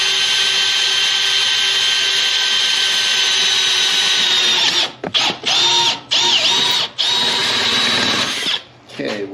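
A power drill bores through steel beneath a micro house on wheels, a loud, steady whine that runs alone for several seconds before breaking into short stop-start bursts, with faint talk near the end.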